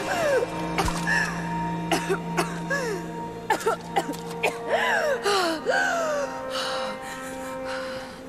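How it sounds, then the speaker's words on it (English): Lara gasping for air after swimming in the video game Rise of the Tomb Raider, a series of loud, ragged breaths and panting gasps close up over a steady game music drone. "Gasping for air."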